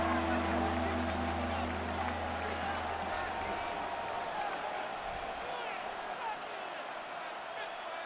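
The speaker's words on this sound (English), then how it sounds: "this crowd doing their best to make a lot of racket" A football stadium crowd during a timeout late in a Lions vs Ravens game, a steady wide roar that holds at an even level throughout, with a low engine-like hum early on.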